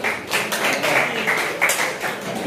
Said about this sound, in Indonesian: Tepuk tangan untuk Dian.